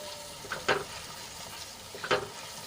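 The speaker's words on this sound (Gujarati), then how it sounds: "અને સરસ રીતે તેલમાં સાંતળી લઈશું" Spice masala with coriander-cumin powder and salt sautéing in hot oil, a soft steady sizzle broken by two brief scraping stirs of a spoon in the pan, close and quiet with no talking.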